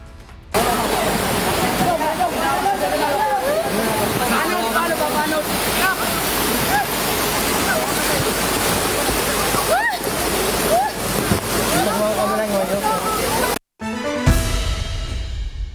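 Floodwater rushes loudly and continuously where a wooden bridge was cut off, a dense roaring wash with some faint voices underneath, ending with a brief break and a different sound after.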